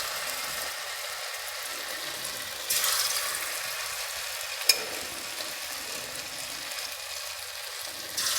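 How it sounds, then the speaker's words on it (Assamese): Small spicy potatoes fry in hot oil, giving a steady, close sizzling hiss that swells briefly partway through, with a sharp clink near the middle and no talking. "গৰম তেলত আমি এতিয়া আলুখিনি ভাজি যাম।"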